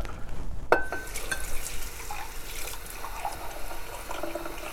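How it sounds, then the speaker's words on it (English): Water runs from a tap into a sink while soaked cashews are rinsed and drained, giving a continuous close splashing and trickling with small clinks and sloshes, and no talking. "Rinse and drain the cashews."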